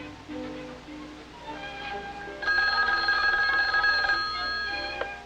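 A telephone rings after a wrong number is dialed on a long-distance line, with a short dial-tone-like signal first and then a steady sustained ring, fairly loud and alone.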